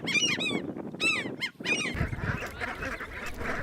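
Geese honk repeatedly in close, loud bursts of nasal calls on the Yukon delta, followed by a busier chorus of overlapping calls from a flock.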